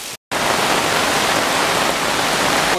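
Floodwater surging through a street during rainy season in Puerto Vallarta, a loud, steady broadband roar of rushing water and rain after a brief cut at the start, with no voices.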